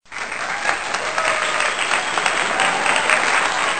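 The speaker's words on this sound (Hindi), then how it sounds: "ताली बजा दो बच्चों।" A group of children applauds in a sustained burst of clapping that starts abruptly and stays steady and close throughout, with no talking over it.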